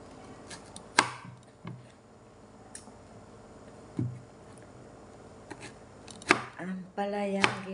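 A knife chops vegetables on a cutting board in a home kitchen, scattered sharp taps with gaps between, then a quicker run of chops with clattering toward the end, with no voices.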